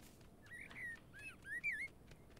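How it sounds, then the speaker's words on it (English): A bird calls in a goose video game, a few faint whistled chirps and slurred trills clustered close together over a quiet background. "You hear that bird?"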